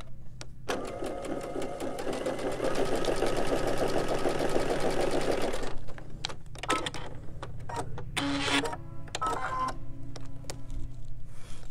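A sewing machine stitches fabric along a drawn line in one sustained run of a few seconds, followed by quieter clicks and handling sounds.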